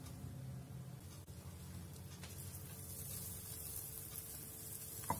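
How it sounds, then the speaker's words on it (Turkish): Butter melting in a pan for a cream sauce, a faint, even hiss of gentle sizzling with a couple of soft ticks, no voices. "Tereyağımızı eritiyoruz."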